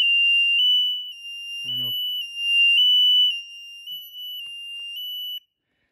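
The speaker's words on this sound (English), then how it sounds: "So we're going to let the alarm go off." A miniature T5-S3 stack light on a digital timer sounds a loud, steady high-pitched electronic alarm tone that pulses in short bursts for about five seconds before cutting off, with a brief spoken remark partway through.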